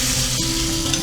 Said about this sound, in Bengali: যতটা লাগে তত পরিমাণে আমি এবার চিকেন দিলাম